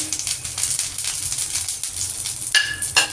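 Nigella seeds and a ground paste for Bengali patol bharta poured into hot oil, giving a close, steady crackling sizzle with a few sharper spatters near the end, alone without talk.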